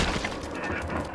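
A grenade launcher fires in Resident Evil, giving a short, dense burst of booming blasts at close range that fills the brief moment.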